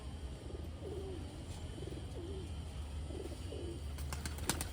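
Malwai-breed pigeon, a fourth-generation bird of a 25-year-old line, cooing in a steady low repeated rhythm of about four phrases over constant background hum, close by and moderately loud.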